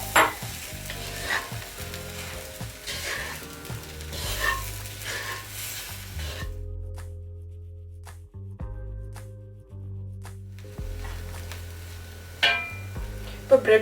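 Bread pieces frying in a pan with ketchup and curry leaves for bread masala, a continuous sizzle broken by repeated scraping stirs, with a brief quieter stretch midway.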